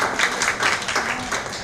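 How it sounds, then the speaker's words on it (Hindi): An audience claps together at a stage-anchoring workshop, a dense, steady wash of applause lasting a couple of seconds at moderate loudness. "ताली बजाइए।"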